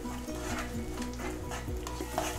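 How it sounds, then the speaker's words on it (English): Ginger garlic green chili coriander paste sautéing with onions, a steady close sizzle under repeated stirring scrapes of a spoon in the pan, with no voices. "So now the ginger garlic and green chili coriander paste has been sauteing along with the onions now."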